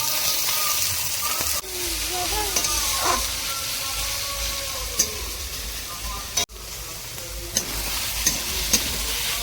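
Chopped onions fry in a pan with a steady broadband sizzle and occasional stirring scrapes, while faint voices murmur in the background.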